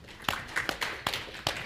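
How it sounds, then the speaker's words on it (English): Brief scattered clapping breaks out as an audience applauds a speaker at a tech conference. Only a handful of distinct claps come through in a light, irregular rhythm, thin and quiet rather than a full round of applause. "Everybody give a round of applause to Emil."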